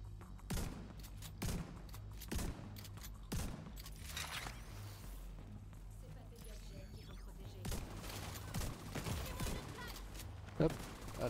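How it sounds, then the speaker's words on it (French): A pump shotgun fired in The Division 2 at close range: a series of loud, sharp blasts spaced a second or so apart, with a further cluster later, over a constant low game rumble and busy combat noise. "on va utiliser le fusil à pompe"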